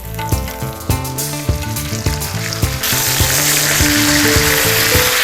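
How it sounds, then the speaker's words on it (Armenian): Steak sears in very hot olive oil with garlic in a pan, a loud close sizzle with sharp spatters that turns into a dense, continuous frying roar partway through. "Ձիթայուղ, լավ տաք պետք է լինի ձիթայուղը եւ թավան շատ տաք"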